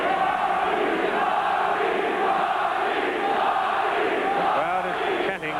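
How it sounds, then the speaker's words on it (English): A large arena crowd at a 1983 boxing match between Bobby Chacon and Cornelius Boza Edwards roars steadily in a loud, continuous chanting wall of voices that holds throughout. "crowd is chanting Bobby"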